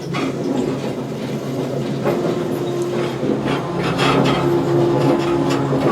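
Freight train in Argentina beginning to move, with a loud rumbling of cars, creaking and clanking couplings and a rising metallic squeal, heard close from on board.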